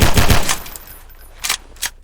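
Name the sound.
gun shots, from video game Garry's Mod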